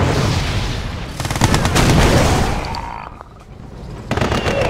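Red Alert 2: Yuri's Revenge battle gunfire rattles in dense bursts with heavy booms, easing off into a lull before another short volley breaks out.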